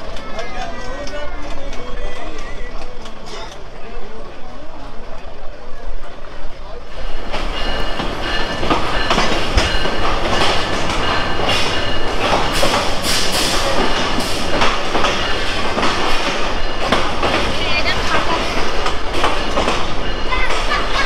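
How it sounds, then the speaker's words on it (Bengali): Lalmoni Express passenger train pulling out on its run toward Dhaka, starting quieter with voices nearby, then a loud, steady rumble and rattle of wheels and carriages once it gets moving, with people talking throughout. "ঠিক 10টা বাজতেই আমাদের ট্রেনটা ছেড়ে যাচ্ছে ঢাকার উদ্দেশ্যে।"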